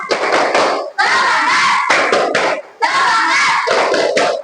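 A class of children in Indonesia performs a "tepuk semangat" clapping cheer on a count of three, loud group claps and shouted chanting in three bursts with brief pauses between.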